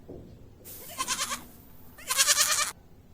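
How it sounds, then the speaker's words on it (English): A sheep on a farm bleats twice, two loud wavering calls close by with a short pause between them, no talk over them. "sheep,"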